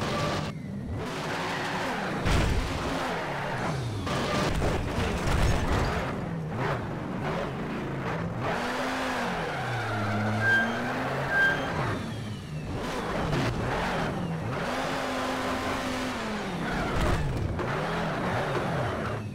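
A car drifting in the video game Need for Speed: Shift, its engine revving up and down through gear changes while tires screech and skid in long sweeping slides, the sound continuous and loud throughout.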